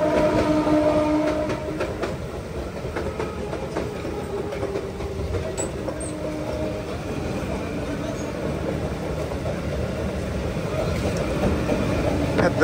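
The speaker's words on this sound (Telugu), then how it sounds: "పెద్దదే లోకల్ ట్రైన్ ఇది" A large local train passes in the rain near a station, a steady loud rumble and rattle of wagons going on without a break, with voices talking faintly over it.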